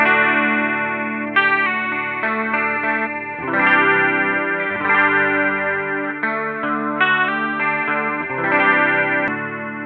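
Electric guitar played through the Line 6 Helix legacy analog chorus, with the Jazz Rivet 120 amp model: sustained, shimmering chords and melodic phrases that swell and shift, loud and close with no talking.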